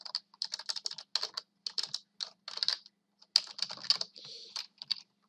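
Keys clatter on a computer keyboard in quick irregular bursts of close, crisp taps with brief pauses, no voices.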